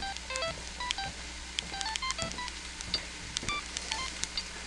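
Phone keypad tones pressed in quick irregular bursts while a text message is typed, a steady stream of short beeps at close range with no talking.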